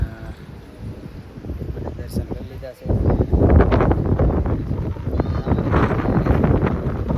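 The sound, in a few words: wind blowing at Kedarnath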